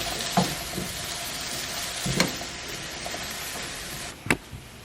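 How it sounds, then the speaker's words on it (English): Tomato soup stirred in a pot, giving a steady low simmering hiss with a few soft spoon scrapes and clinks against the pot, one sharper clink near the end, no voices. "I'm going to go ahead and start stirring over here"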